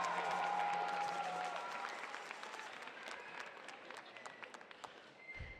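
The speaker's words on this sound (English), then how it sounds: "Please give another round of applause to our valedictorian" A graduation crowd at Merritt College's 2026 commencement applauds the valedictorian and student speakers, a wide spread of clapping that starts full and gradually thins out, heard from a distance at low volume.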